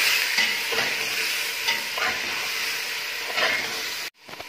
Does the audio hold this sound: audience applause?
no